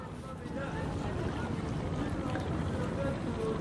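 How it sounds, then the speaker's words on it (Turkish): Faint, steady tour boat motors rumble at a distance, mixed with soft wind noise, on open sea. "Denize girmeler az ama tekne turları hala bulunduğumuz yerde devam etmekte."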